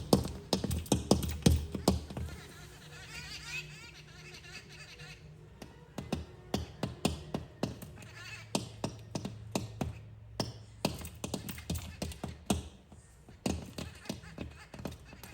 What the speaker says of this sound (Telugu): గ్లాస్ విండోని పగలగొడతాయేమో అన్నంత గట్టిగా కొడుతున్నాయి చూడండి